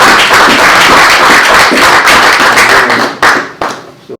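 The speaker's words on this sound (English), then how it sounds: "ladies and gentlemen, have a round of applause for" An audience claps together at a live stamp expertizing event at the Spellman Museum. The loud, dense applause fills the room, then thins into a few scattered final claps before stopping.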